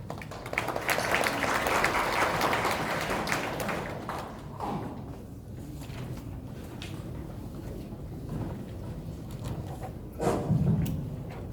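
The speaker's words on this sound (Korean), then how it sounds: "정재훈 교수님을 뜨거운 박수로 맞이해 주시기 바랍니다." Symposium audience in a chamber of commerce hall applauds a speaker, a loud dense round of clapping that thins after four seconds into scattered claps, thumps and room noise, with a brief louder burst near the end.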